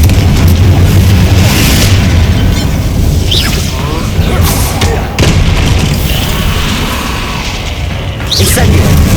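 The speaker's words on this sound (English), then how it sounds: "Confringo!" Confringo fire blast spell in Hogwarts Legacy: sustained heavy booming and crashing in battle, with sharp bursts near 4.5, 5.2 and 8.7 seconds over a thick rumbling bed.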